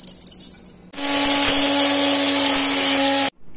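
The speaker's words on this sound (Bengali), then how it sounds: "নিয়ে এবার মিক্সির মধ্যে সবকিছু পিষে নেব" A kitchen mixer grinder grinds cooled, roasted spices. After a quiet start the motor cuts in abruptly with a loud, steady whirring roar that holds for over two seconds, then stops suddenly.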